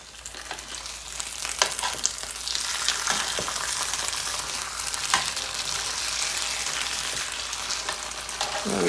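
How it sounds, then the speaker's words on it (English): A cast iron pan of spaghetti cooking in broth sizzles and bubbles steadily, with occasional soft scrapes from stirring, close by and with no talking. "we're cooking it in a pan by adding broth to it instead of boiling the noodles"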